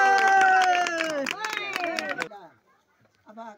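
Guests at a wedding in Khotang, eastern Nepal, clap and shout together in a loud burst mixed with raised voices, which cuts off abruptly into near quiet before a short voice returns.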